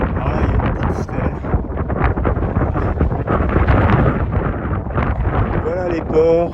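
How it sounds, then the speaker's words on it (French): Strong mountain wind buffets the microphone in a loud, continuous roar along a pass near Roncevaux, with someone talking over it throughout. "Et le vent est infernal"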